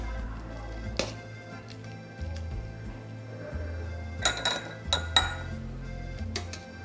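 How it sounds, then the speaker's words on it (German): Briefly blanched vegetables are spooned into glass jars for Tafelspitz, with scattered clinks and taps of glass and utensils over a low, steady background hum, a few sharper knocks standing out. "Mein Gemüse ist kurz angegart und dieses fülle ich in meine Gläser."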